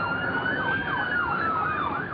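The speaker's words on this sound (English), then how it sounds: "Suddenly, they heard the wail of police sirens and saw flashing police lights." Police car sirens wail, a rising and falling electronic tone cycling steadily at moderate distance with no voices over it.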